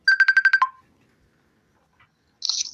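A telephone rings with a short burst of rapid electronic trills, loud and close, then stops; after a long silence a brief voice is heard.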